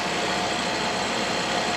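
The engine of a Sherp all-terrain vehicle drones steadily and evenly on low throttle as it climbs a snowy slope gently, constant and close, with no talk.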